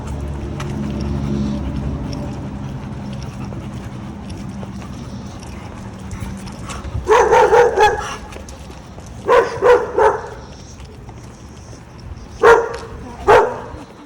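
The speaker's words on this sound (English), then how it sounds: "We got barking on your left, crazy dog on your right." A dog barks in short loud bursts of two or three on a walk past a parking lot, close by and clear, after a stretch of low rumbling background noise.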